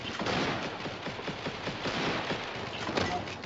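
Rapid shotgun fire in the video game Tropical Royal, a dense run of repeated blasts and clatter with a steady rhythm, sounding compressed and slightly distant throughout.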